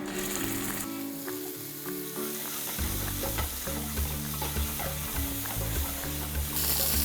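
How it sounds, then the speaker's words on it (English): Oil sizzling loudly in a pan while matoke cooks with pepper, a dense continuous frying hiss close up, with stirring scrapes and faint tonal background hum underneath. "You have to hear that sizzling sound."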